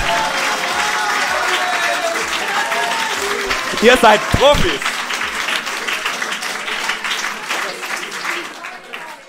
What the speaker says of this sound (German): Nochmal klatschen oder so